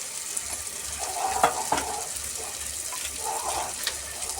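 Onion-garlic masala, turmeric and chutney spices fry in a pan for a shahi biryani, giving a steady, close sizzle with soft bubbling and a few brief clinks, with no talking.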